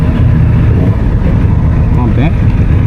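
A Honda CB750 Hornet motorcycle rumbles loudly and close under heavy wind buffeting during a test ride, its low engine tone shifting as it revs.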